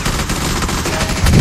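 Gunfire in a hectic first-person shooter match, a dense rattling burst of shots with a heavier blast near the end, loud and close, continuous for the full stretch with no talk.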